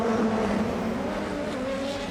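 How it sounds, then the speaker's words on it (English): DTM race cars at the Lausitzring pulling away from their grid boxes at a race start, a dense, loud roar of several engines accelerating together, steady and close throughout. "And the cars are released from their grid boxes."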